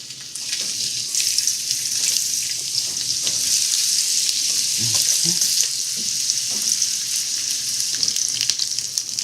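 Winter squash pieces frying in a pan with reduced marinade, giving a loud, continuous crackling sizzle with occasional stirring knocks throughout, and no talking.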